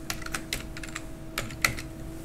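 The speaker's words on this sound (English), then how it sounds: "So we are going to type like Docker hyphen compose and build." Keys clatter on a computer keyboard as a Docker compose build command is typed, a quick irregular run of close, light clicks with brief pauses and one sharper keystroke near the end, no voices.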